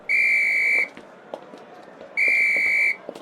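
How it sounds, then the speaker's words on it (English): A loud, piercing whistle is blown twice in long steady blasts, with faint clicks and knocks between them in an audio drama of The Master and Margarita. "Whistle."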